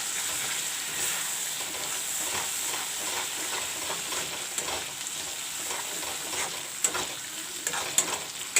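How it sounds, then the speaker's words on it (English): Ground onion paste masala frying in a pot for chicken curry, a steady close sizzle with soft stirring and a few sharper spatula clicks toward the end. "I will let this masala fry"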